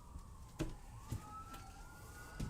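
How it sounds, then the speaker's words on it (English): Fire engine and ambulance sirens wail faintly in the distance as a thin, drawn-out rising tone under quiet room noise, broken by a few soft nearby knocks. "It sounds like fire and ambulance."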